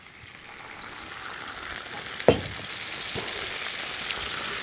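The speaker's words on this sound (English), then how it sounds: "We're going to deglaze this dish with the wine" White wine sizzles and hisses steadily as it deglazes a hot pan, a broad close frying hiss that swells slightly with one sharp clatter partway through.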